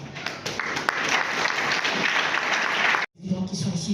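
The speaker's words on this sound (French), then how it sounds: "pour le mot d'ouverture sur vos applaudissements" A crowd at a French trade-union training session applauds for about three seconds, dense and fairly loud with a few sharper claps. The applause stops abruptly, and a brief murmur of voices follows.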